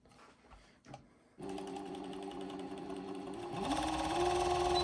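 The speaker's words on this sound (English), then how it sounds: "This is a 4-thread overlock" A Juki MO6714DA 4-thread semi-dry-head industrial overlock machine starts up after some faint handling noises and runs steadily, sewing stretchy fabric with a smooth, fairly quiet whir that rises slightly in speed near the end.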